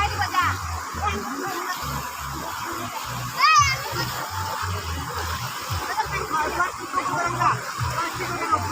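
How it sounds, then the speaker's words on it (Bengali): Water splashes and sloshes as a man helps bathe people, with children chattering and speaking over the irregular splashing. "এই মানুষটা দেখেছ তো ধরে স্নান করিয়েও দিচ্ছে"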